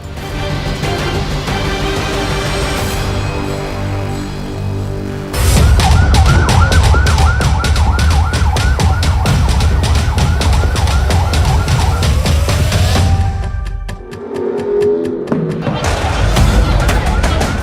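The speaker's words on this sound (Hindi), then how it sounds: "फिलिस्तीन के वेस्ट बैंक के इस अस्पताल के बाहर एक के बाद एक एम्बुलेंस फ्लैश लाइट जलाकर पहुंचती है" Ambulances arrive one after another at a hospital in the West Bank, their sirens wailing loudly and repeatedly in a fast cycling pattern. A vehicle passes, a brief lull follows, and then another siren starts up, amid street noise.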